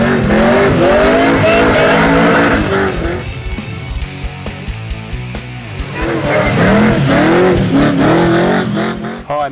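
An HJ Holden repowered with a blown, injected LS2 V8 does a tyre burnout, a loud, close roar of the engine over screeching tyres, holding steady and then revving again toward the end, with no voices.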